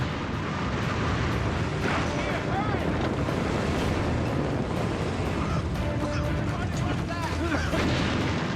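Massed artillery cannons open fire in a wartime barrage on the 16th of December, a dense, continuous rumble of booms and blasts under a narrating voice.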